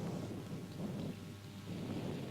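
Rain falls steadily on a wet cricket day under a deep rumble of thunder that swells and eases, forming a dense continuous wash with no voices.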